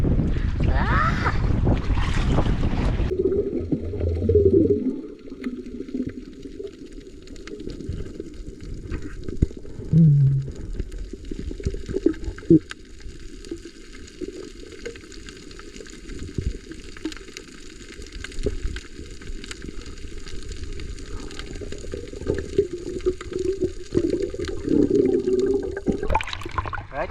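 Strong sea waves and current wash around a small boat, with constant rushing water and wind buffeting the microphone over about half a minute. There are heavier splashes near the start and end.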